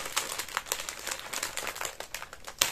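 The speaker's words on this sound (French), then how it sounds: "il y a encore une pochette qui fait du bruit" Crinkly plastic pouch being opened, a faint run of close crackles and rustles in irregular bursts with a sharper crinkle near the end, no voices.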